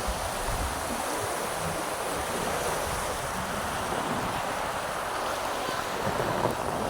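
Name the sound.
strong ocean waves at the beach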